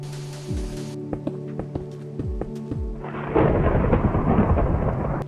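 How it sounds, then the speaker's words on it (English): A Minecraft thunderstorm begins with game sound effects: a series of short tonal blips and thuds. Then a loud rumble of thunder breaks in with a steady hiss of rain that continues to the end. "Well, it is now thunderstorming."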